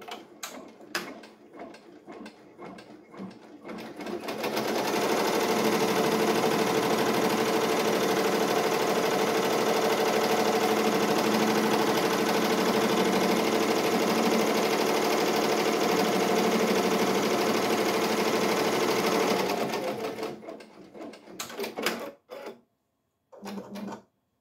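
A Ricoma EM1010 embroidery machine stitches an applique design, a loud rapid mechanical chatter that starts up after a few seconds, runs steadily for about fifteen seconds, then stops, followed by scattered clicks and handling noises.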